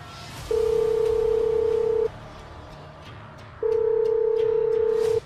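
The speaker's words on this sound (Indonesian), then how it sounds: "Yukina pun segera menghubungi Tommy melalui ponselnya." A mobile phone call ringing back, two long steady electronic tones separated by a pause, clear and even in volume with a faint background hiss.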